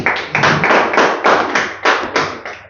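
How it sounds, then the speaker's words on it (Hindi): Audience at a Bihar Day discussion event gives rhythmic, loud clapping in roughly regular bursts, several pulses in quick succession filling the room, with no voices over it. "ताली ठीक से बजाओ, बजाना है तो बढ़िया बजाओ।"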